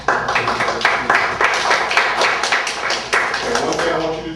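A crowd at a city candidate forum applauds steadily in a room, a dense, even patter of many hands clapping for a few seconds without pause.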